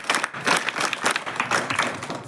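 An audience in a school gathering claps for a group of students: dense, steady applause of many hands, fairly close and loud, lasting the whole stretch without a break.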